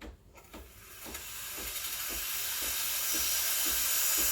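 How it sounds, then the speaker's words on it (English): Steam wand purge on a Breville Barista Express BES870 espresso machine, a steady rising hiss of steam building and holding loud for several seconds, with a faint rhythmic ticking underneath. "So purge, just turn it on for a second or two, just to get rid of any milk that's on the inside of the wand tip."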